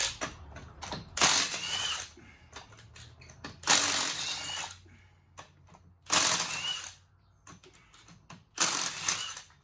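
Repeated bursts of mechanical ratcheting and metallic clicking while removing a tire from a 2004 Pontiac Montana 3.4, four main loud spells separated by quieter handling noises, close by with no talking.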